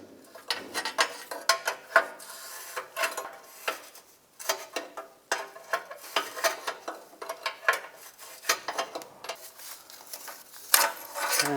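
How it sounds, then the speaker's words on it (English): A 22mm wrench works loose a downstream oxygen sensor for cylinders 4-6 on a 2004-2010 BMW X3, giving close, irregular metallic clicks and scrapes in short uneven bursts. "I'm going to use a 22mm wrench. If you can fit an O2 sensor socket in there, you can use that. And just loosen it up."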